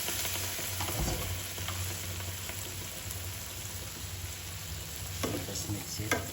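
Water poured into a pan of sizzling buttered garlic vegetables and shrimp, giving a steady loud hiss and crackle with a sharper burst near the start and some stirring clatter toward the end, no voices.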